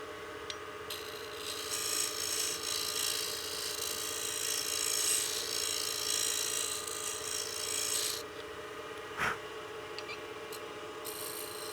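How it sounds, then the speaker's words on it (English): Skew chisel shaving wood on a lathe while turning a utility box, a steady, fairly quiet rasping hiss that runs continuously, fades after about eight seconds, then is broken by a single short knock. "I'm going to get in here a little bit with my skew."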